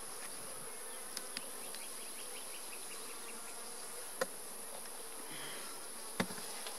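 Honey bees buzzing around an opened hive with a migratory lid, a faint, steady drone with a few light clicks and knocks nearby, and no talk.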